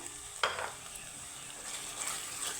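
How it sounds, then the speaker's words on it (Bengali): Cumin and coriander powder paste with sour yogurt sautés in a pan over a low flame, giving a quiet, steady sizzle that opens with a short clink of stirring. "লো ফ্লেমে একটু কষিয়ে নিব"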